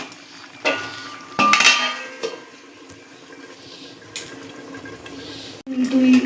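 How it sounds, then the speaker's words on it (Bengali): A metal lid clanks onto a pot of shrimp and green jackfruit curry set to simmer over medium heat, with a few sharp clinks of cookware over a quiet background. "এবার এটাকে আমি মিডিয়াম আঁচে রেখে ঢেকে একটু ফুটিয়ে নেব।"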